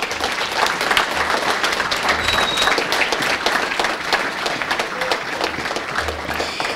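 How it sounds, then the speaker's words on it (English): An audience at a school board meeting gives a sustained round of applause, dense steady clapping from a room full of people that continues at an even level throughout with no talk over it. "Please join me in a final round of applause."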